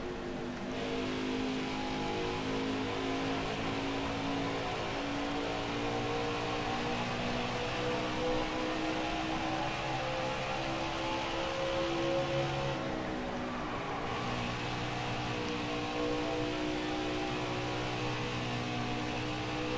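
A race car engine in the NASCAR Heat 5 video game drones at high revs during practice laps at Darlington, a sustained loud whine that dips briefly in pitch as the car lifts off, then climbs again.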